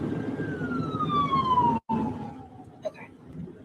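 An ambulance siren passes on the road, a single falling wail that fades gradually over steady engine and road noise with a brief dropout partway through.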